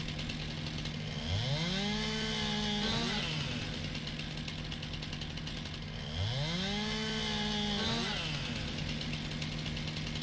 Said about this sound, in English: Want to cut down these tall trees here. Go, cut that one down.